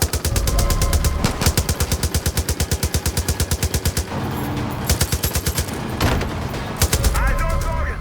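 Rapid automatic gunfire crackles in loud sustained bursts during a Far Cry 5 cutscene, with fast rhythmic volleys, brief pauses and overlapping shots close up, while voices shout over the shooting.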